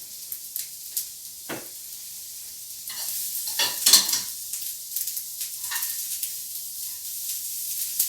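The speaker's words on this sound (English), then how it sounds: "My onions are cooking nicely" Onions sizzling in a pan while cooking, a steady soft frying hiss with occasional stirring scrapes and clinks of a utensil against the pan, close and without talk.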